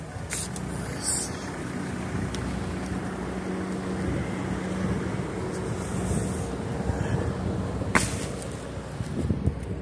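Cold wind blows steadily outdoors on a sunny day, a continuous close rushing roar that buffets the microphone, with a few brief louder gusts and knocks.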